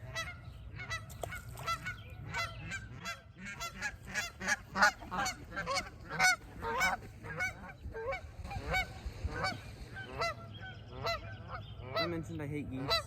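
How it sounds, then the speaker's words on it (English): Geese honk repeatedly in loud, overlapping calls, a noisy flock nearby with occasional quieter gaps between bursts. "I mentioned I hate geese. Where these geese came from."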